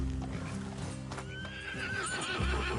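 Horses in Red Dead Redemption 2 clip-clop close by and give a clear neigh midway, over a steady game music bed.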